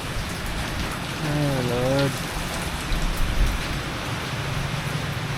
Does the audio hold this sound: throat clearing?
no